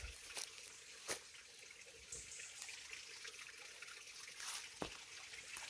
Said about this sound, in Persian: فکر کنم صدای آب از اینجا میشه شنید